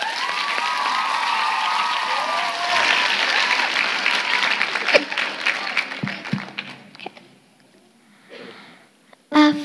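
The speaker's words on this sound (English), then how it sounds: "Can we give Dia a big round of applause?" Big audience applause at a primary school winter concert for a young piano and singing performer, many hands clapping loudly with a few cheers, then thinning out and fading, ending in a few faint claps and stray noises.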